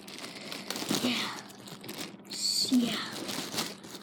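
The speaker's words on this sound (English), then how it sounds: "So let's unwrap it." Plastic packaging of a GoPro Hero 7 White travel kit crinkles and rustles as it is unwrapped up close, in two bursts of crumpling, with a brief spoken word.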